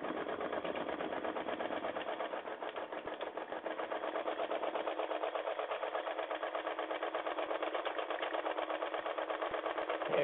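An embroidery machine stitches an in-the-hoop project using a four-by-four hoop, a fast, even mechanical whir and tapping that keeps running steadily and quietly at close range.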